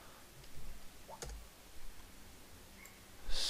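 Computer keys clicking as a SQL query is typed, a few faint, sparse taps in a quiet room with no speech.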